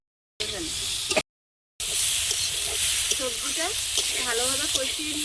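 Potatoes, beans and tomato sautéing in a pan with spices, a close steady sizzle with stirring scrapes after a brief silent gap, and a voice speaking faintly over it.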